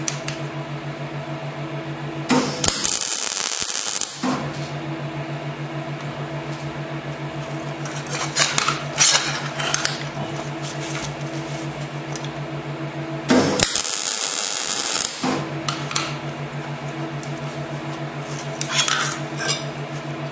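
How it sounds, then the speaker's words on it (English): MIG tack welds placed on a metal part, two loud bursts of harsh crackling buzz a few seconds long, separated by a long stretch of steady humming background with faint clinks, heard close with no talking. "I'm going to stick a tack weld over this side here and then another tack weld"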